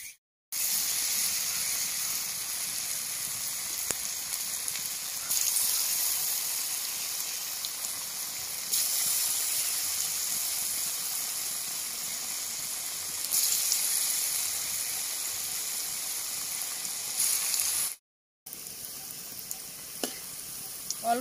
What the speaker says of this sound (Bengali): অল্প আঁচে ঘুরিয়ে ফিরিয়ে ভাজতে হবে, তাহলে মুচমুচে হয়ে যাবে